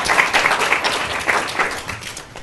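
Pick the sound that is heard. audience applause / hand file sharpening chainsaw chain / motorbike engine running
audience applause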